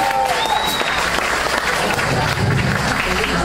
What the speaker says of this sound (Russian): ваши аплодисменты Татьяне!